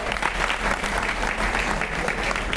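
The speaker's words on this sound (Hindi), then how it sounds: "सब अपने लिए जोरदार तालियां बजाएं एक बार" An audience applauds loudly at a stage event in Indore, a dense, sustained burst of many hands clapping at once, close and even in level for the whole stretch, with no talk over it.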